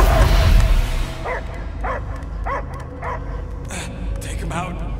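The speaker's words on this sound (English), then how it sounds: "I hear only barking." A dog in the video game Marvel's Guardians of the Galaxy barks and yips in a steady series of sharp, evenly spaced calls, mixed with game voices talking over a low background rumble.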